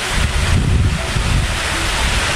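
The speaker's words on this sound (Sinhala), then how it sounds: "පාද රක්ෂිතයෙන් එන දිය පාරක් නේ" A mountain stream flows down from the forest reserve along the Kuruwita Erathna trail to Sri Pada, giving a steady, loud rushing wash that stays close and continuous, with wind-like noise and no voices.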